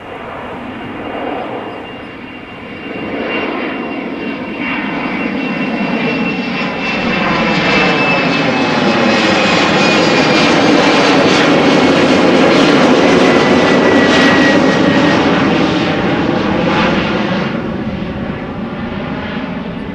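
An Embraer 190 jet departing Amsterdam Schiphol Airport roars steadily loud, its engine noise swelling over the first seconds and holding as a broad sustained rumble with a faint shifting whine.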